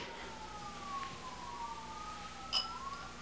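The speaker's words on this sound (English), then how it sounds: "I hear some sirens in the background." Emergency sirens wail faintly in the distance, their rising and falling tones gliding slowly behind a quiet outdoor background, with a brief nearby click partway through.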